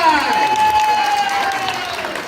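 A children's TV show audience claps along with cheering while a sustained musical tone and voices carry over the crowd noise for the whole stretch.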